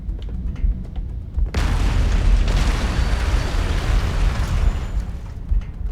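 A sudden loud blast from Halo plasma grenades bursts in and swells into a sustained, roaring explosion that rumbles on for several seconds before fading.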